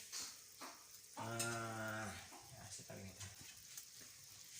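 Butter sizzling on chicken barbecue over a grill, a faint steady frying hiss under a voice that talks throughout.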